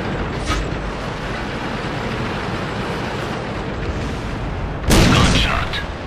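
A sudden loud gunshot blast cuts through a constant roar of tank battle noise in World of Tanks near the end.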